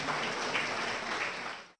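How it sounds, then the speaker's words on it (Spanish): An audience at a Spanish-language public talk on citizen power, participation and democracy claps steadily and fairly loudly for nearly two seconds before the applause stops abruptly. No one speaks. "Un fuerte aplauso, por favor."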